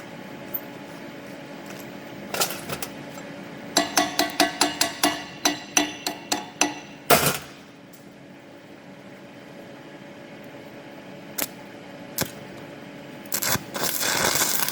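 Chipping hammer knocking slag off a weld on a bent axle stub, a quick run of sharp metallic taps followed by scattered single knocks, fairly close over a low background hum.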